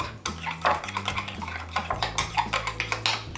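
A vinegar, smoked paprika and sugar sauce being mixed in a bowl, with quick clinking and scraping taps of utensil on dish in an uneven rhythm, close and alone.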